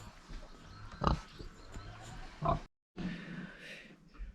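Five-month-old farm pigs in a barn grunt and snort close by, with a few louder grunts standing out over a continuous low rustling background and a brief silent gap.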